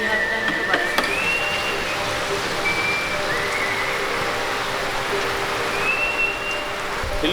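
Steady rain falls over a hillside village in Mawsynram, Meghalaya, as an even, fairly soft wash of hiss with a few faint whistling tones drifting through it.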